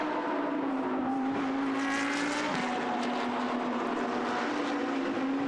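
A Lamborghini Super Trofeo race car at the Monza circuit powers out of the Variante Ascari, its loud engine howl sweeping past with a sustained tone that dips in pitch midway, over the background noise of other cars.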